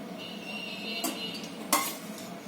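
Ridge gourd being mixed with masala in a dish, two short scraping clinks of a utensil against the dish over a quiet kitchen background.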